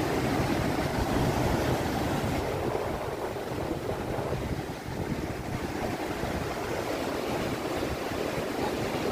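Continuous rumble of high ocean surf breaking on the shore at Praia Gravatá, Navegantes, Santa Catarina, Brazil, with wind buffeting the microphone.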